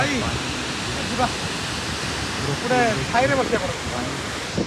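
Chitrakoot waterfall in Bastar roars as a steady, full wash of falling water, with a few voices talking over it near the middle and end.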